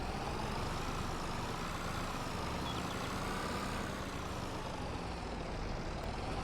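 Engine of a small tractor in Farming Simulator 22, a continuous loud drone with a steady low rumble and a slight rise and fall in pitch, heard alone without talk.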